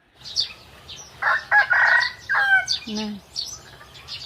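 A rooster crows near fighting-cock chickens, one loud, drawn-out call with a strained, wavering tail, over faint background hum and softer bird calls.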